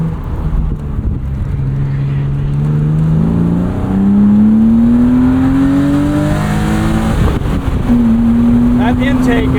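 A 1999 BMW Z3 M Roadster engine revs up loud and close, its intake and exhaust rising in pitch across two pulls, with a brief drop between and a steady high drone at the end.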